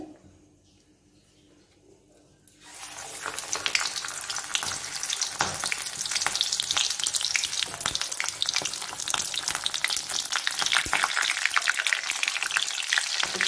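Malabar spinach leaf fritters coated in gram flour batter dropped into hot oil, a quiet start giving way to a loud, dense, crackling sizzle that continues steadily up close.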